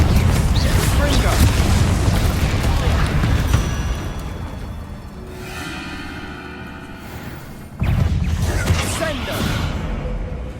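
Confringo and Bombarda spell explosions in Hogwarts Legacy, repeated heavy booms and whooshing blasts in loud bursts, a quieter mechanical stretch in the middle, then another strong blast, with spell-shouting voices throughout.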